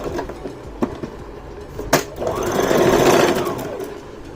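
A Brother GS1700 sewing machine stitches along the edge of a salwar cuff, with a few sharp clicks before the motor runs up into a steady, close mechanical whir.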